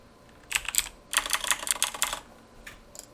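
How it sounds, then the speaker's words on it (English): Quick bursts of computer keyboard typing in two short runs, close crisp clicks with a brief pause between them and a couple of stray taps at the end, with no voices. "I'm going to type mat"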